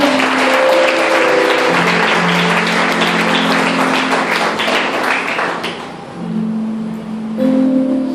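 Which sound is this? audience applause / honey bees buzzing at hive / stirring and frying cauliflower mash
audience applause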